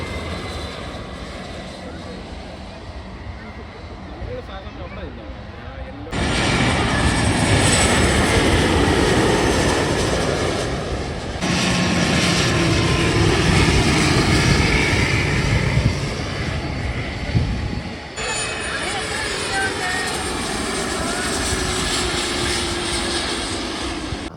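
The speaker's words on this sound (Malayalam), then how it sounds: "പ്രൈവറ്റ് ജെറ്റ് നല്ല സ്പീഡിലാണല്ലോ പോണേ" A private jet's engine roar builds loud and sustained at Manchester Airport, rising in intensity as it rushes past, with a steady broadband rumble and no talk.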